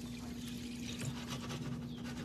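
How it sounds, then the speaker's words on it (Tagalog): Water poured steadily into a cooking pot holding upo squash and sardines, a soft continuous pour under a low kitchen hum. "Dagdagan natin ng tubig."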